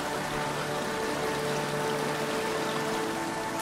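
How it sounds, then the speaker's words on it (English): Rain falls on the Glacier Burn hiking track, a steady, close patter and hiss of drops on surfaces, even in level from start to finish with no voices. "Now, unfortunately, it's raining"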